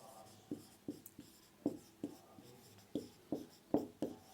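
Chalk tapping and scraping across a classroom board as notes are written, a series of short, regular strokes about every half second, close and fairly quiet with no talking.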